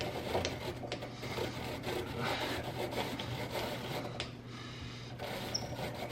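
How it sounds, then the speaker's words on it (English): A vintage apple peeler being cranked by hand makes a continuous close, gritty rasping and rubbing, with faint squeaks and small knocks from the mechanism over a low steady hum. "Let's look at this apple peeler closer."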